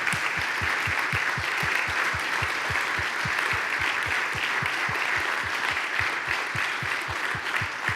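Steady, dense applause from an audience at a talk, greeting the speaker's grandmother as she takes a front seat; continuous clapping fills the whole stretch at an even level, with no voices over it.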